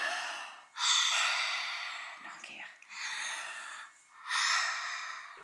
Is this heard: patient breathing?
yes